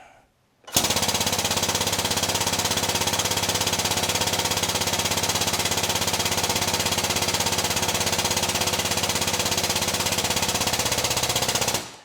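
A hydraulic or threaded press forcing a bushing out of a Corvette C4 front suspension A-frame gives a loud, continuous rapid mechanical hammering drone that starts abruptly and holds steady for about eleven seconds, up close.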